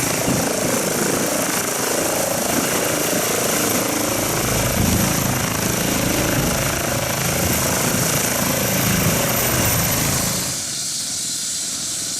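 An air ambulance helicopter lifts off from a road accident scene, its loud, steady rotor and engine roar dominating for about ten seconds before dropping sharply away near the end.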